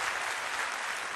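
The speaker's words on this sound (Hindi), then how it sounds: "एक बार जोर से ताली बजाएं।" A morning-session audience bursts into loud applause, with many hands clapping at once in a dense, even roar that stays steady throughout a single short burst.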